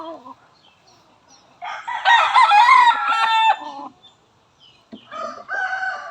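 An Allen Gray chicken crows loudly and close in a long drawn-out call, preceded and followed by shorter clucking calls with quiet gaps between.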